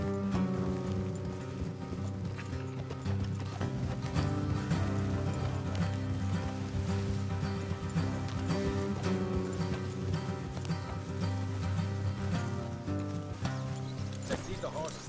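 Horses clip-clopping at a steady pace in Red Dead Redemption 2, hoofbeats carrying on under a continuous layer of game music and ambience with no pause.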